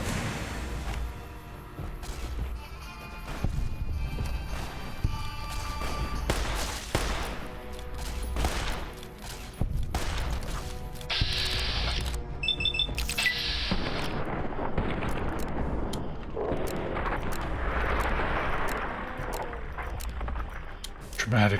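Bursts of weapon fire from Fallout: New Vegas gameplay on PC, sharp booms and rapid shots scattered among mechanical reload clatter and game effects, with a voice talking over much of it.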